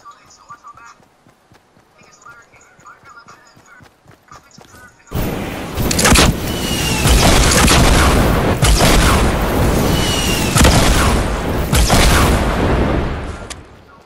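A Fortnite rocket launcher fires and detonates in a loud, sudden blast, followed by several seconds of heavy booming explosions and crackling debris. Faint game sounds come first.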